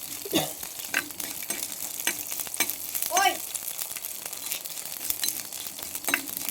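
Mustard seeds and rice frying together in a pan give a busy, close sizzle with scattered sharp pops and stirring scrapes throughout, no voices.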